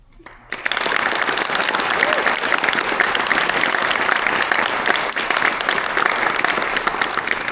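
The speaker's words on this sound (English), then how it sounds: "let's give a round of applause, students, for those here to support you tonight" After a brief quiet moment, dense applause erupts from a large audience at a Syracuse High School graduation tribute evening and stays loud and steady to the end, with some crowd voices mixed into the clapping.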